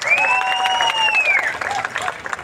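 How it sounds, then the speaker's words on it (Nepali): An audience claps for Yogesh at a book launch in Nepal, the steady applause loud and sustained throughout, with a faint tonal whistle or feedback ringing over it early on. "योगेशजीलाई एकचोटि जोरदार ताली दिनुहोस्"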